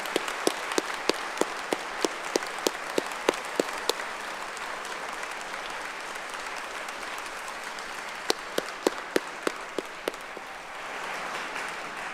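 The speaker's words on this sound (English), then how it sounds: "Can I please ask for a round of applause for our amazing order today?" An audience at a Faculty of Agriculture graduation ceremony applauds, a steady wash of moderate clapping with a few sharper individual claps standing out, fading near the end.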